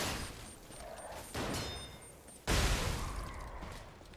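Video game gunfire in a puppet-fighting game, a steady stream of shots followed by a sudden louder, heavier burst, dense and fairly close with no talking.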